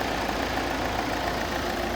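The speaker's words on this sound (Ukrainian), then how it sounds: "Ну тут якийсь ролик шкребе." A roller scraping inside the running engine of a Volvo V60 with oil leaks, a steady broadband mechanical whir and rasp held at an even, fairly close level throughout, no voices.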